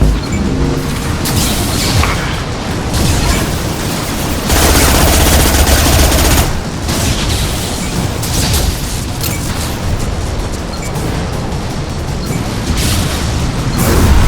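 Dense gunfire from a firefight in the video game Mass Effect 2: loud, continuous bursts of rapid automatic shots with heavy booming impacts, running without a break.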